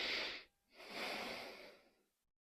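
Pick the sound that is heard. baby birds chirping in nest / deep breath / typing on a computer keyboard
deep breath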